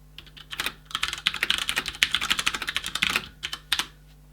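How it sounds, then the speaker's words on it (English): Typing on a Ducky DK9008 Shine II mechanical keyboard with round switches, keys bottomed out in a fast, close clatter of crisp clicks for several seconds. "if I type for a bit so you can hear what it sounds like"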